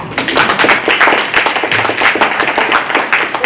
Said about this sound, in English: I want a round of applause for that.